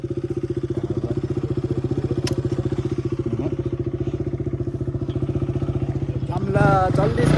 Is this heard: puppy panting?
no